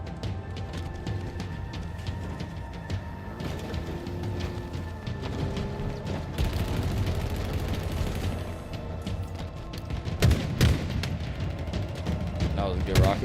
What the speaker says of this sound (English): Alright, we got the rocket launcher again.